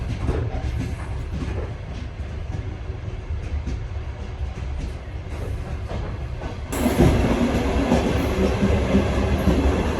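A moving passenger train heard from the open space between the wagons, with a loud continuous rumble and rattle of wheels and couplings that swells noticeably louder and brighter partway through.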